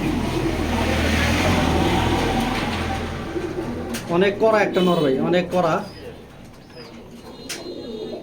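Pigeons coo softly in a loft, one a 2020 male with a local bloodline, under someone talking, with a brief louder cooing passage in the middle.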